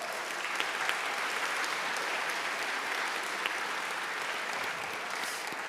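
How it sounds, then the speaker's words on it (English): Audience applause at the EuroPython 2025 Python quiz: dense, even clapping from a large crowd, sustained at a constant level for several seconds with no talk over it. "One more round of applause."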